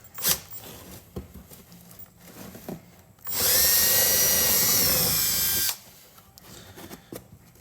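A power drill bores a mounting hole for rock lights in a Duramax truck, running loud and steady for about two seconds between quieter handling noises.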